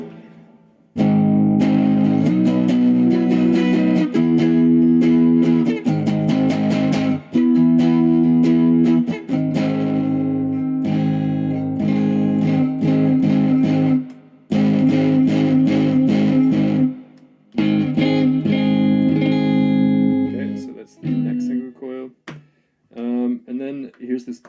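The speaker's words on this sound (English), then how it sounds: "why don't we give it some distortion?" Distorted Squier Bullet Mustang electric guitar, chords and riffs played loud and close for over twenty seconds with short breaks, ending in a few scattered notes.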